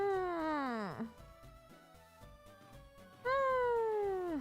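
A cat gives two long, loud meows, each sliding downward in pitch, separated by a quieter stretch of background sound.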